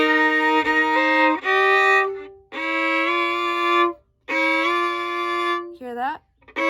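A fiddle plays the hymn Pass Me Not in a sequence of sustained, bright bowed notes with short gaps, sliding fingerings gliding up into pitches, solo and close with no voice.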